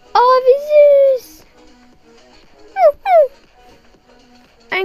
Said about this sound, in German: Sitzt hier etwa ein kleiner süßer Hundi?